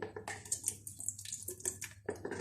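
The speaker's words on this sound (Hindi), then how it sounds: "अब हम ऐसा करते हैं कि जो अंडे की तीनों जदियाँ हमारे पास हैं इसमें ये मेजर किया हुआ दूध इसके अंदर डालेंगे।" Measured milk poured into three egg yolks for lemon pudding, a soft close trickling and splashing of liquid into a bowl with small irregular drips over a couple of seconds.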